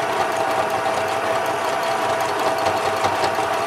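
A small Janome sewing machine runs continuously as it stitches around fabric edges, giving a steady, even mechanical whir with no pauses and no talk.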